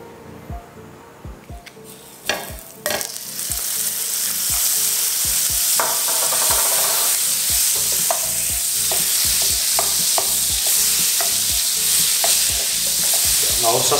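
Butter hits a hot frying pan and sizzles steadily with a broad, continuous hiss, punctuated by repeated clicks and scrapes of stirring throughout; starts quieter, then the fizz swells and holds loud and close.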